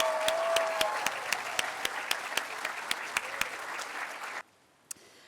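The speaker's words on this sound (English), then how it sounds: "Let's give them one more round of applause." An audience at a senior school closing ceremony applauds the graduates, a steady round of clapping with sharp sparse claps standing out and a faint tone early on, ending abruptly with near silence and one last clap.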